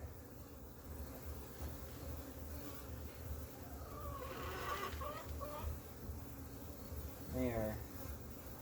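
Honeybees hum steadily around an opened hive during a split inspection, a low continuous drone with short louder buzzes as individual bees pass close, along with faint background sounds.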